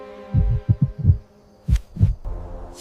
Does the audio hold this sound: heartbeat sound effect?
yes